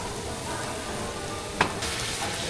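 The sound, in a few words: stir frying in a pan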